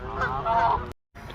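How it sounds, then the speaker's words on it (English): Geese honk loudly and close by in a harsh, drawn-out call, pause briefly, then honk again. "Hello, geese."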